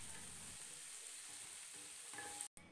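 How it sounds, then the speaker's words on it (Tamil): Tomatoes sauté in a hot pan for chicken curry with a steady, quiet sizzle and crackle, broken by faint stirring scrapes. "தக்காளி சேர்த்து நல்லா வதக்கி விட்டுக்குங்க."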